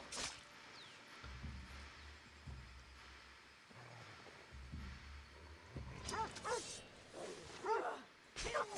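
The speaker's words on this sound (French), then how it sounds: "c'est un chien qui vient m'agresser" A dog in the video game Assassin's Creed Odyssey growls and yips in short bursts over game ambience, with a louder flurry of sharp yelps near the end.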